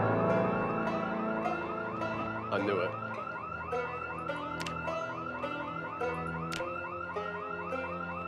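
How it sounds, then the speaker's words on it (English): Car alarm in the zombie survival game Project Zomboid, a steady looping electronic wail cycling rapidly and continuously at moderate distance, with a few brief spoken words and clicks over it. "Probably listen to that alarm."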